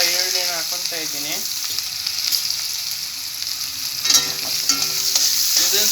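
Chopped onions sizzling in hot oil just after mustard seeds have popped, a broad continuous frying hiss with stirring scrapes and clatter, a few clunks around the midpoint, no speech.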